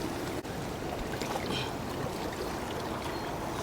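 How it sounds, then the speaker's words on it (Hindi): Cold, pure glacier water in Manali used for washing, a continuous broadband rushing and splashing of flowing water outdoors, steady and fairly loud throughout. "ये देखें जी, ठंडा ठंडा पानी, नेचुरल पानी, और इसमें ये जो है वॉश कर रहे हैं हम अपने।"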